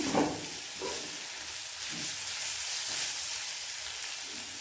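Bottle gourd peel fries in a pan with a steady, bright sizzle and hiss, plus a few soft stirring scrapes early on, moderately loud and without speech.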